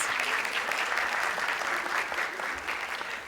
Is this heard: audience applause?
yes